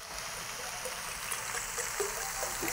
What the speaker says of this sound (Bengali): এবার দেখুন এই যে সামান্য আমি জল দিচ্ছি